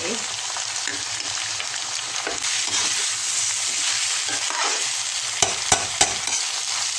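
Tofu, sweet preserved radish, diced carrot and dried shrimp stir-fry in a hot pan for noodles, a loud steady sizzle with a few sharp clacks of the spatula near the end.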